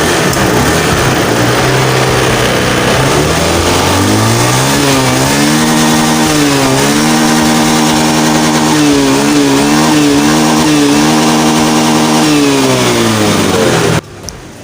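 A Honda Scoopy scooter with a sputtering, power-losing, stall-prone engine traced to its fuel pump revs loudly and close, its pitch climbing, wavering unevenly, then dropping before cutting off abruptly.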